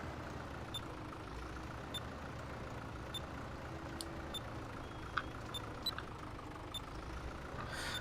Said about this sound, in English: the beeping that you can hear is, I've got Proceed on here